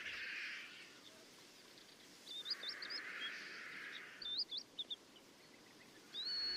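Rock-dwelling birds, among them vultures, call among cliffs, scrub and cork oak woodland in Portugal: a few short, faint chirping phrases repeat at a distance over steady hiss.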